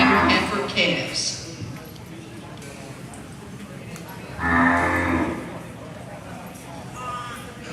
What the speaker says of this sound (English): We're now bringing in class 3, Spring Heifer Calves.